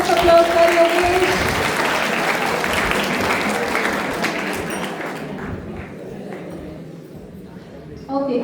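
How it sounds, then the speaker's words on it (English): Audience applause at an Independence Day quiz event, a sustained round of clapping from a crowd that slowly fades over several seconds, fairly loud and close. "Can we have a big round of applause for Yogesh?"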